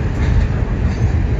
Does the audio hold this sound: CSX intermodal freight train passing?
yes